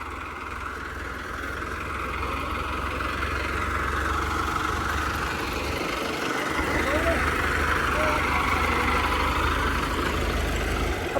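A farm tractor's engine idles during the wheat harvest, a steady, loud, low rumbling drone that runs throughout, with voices faintly audible over it.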